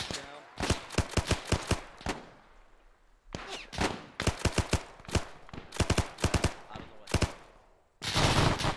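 MG42 machine gun fire in an Arma 3 World War II battle, repeated loud short bursts of rapid shots separated by brief pauses, close and sharp, ending in a dense roar of fire.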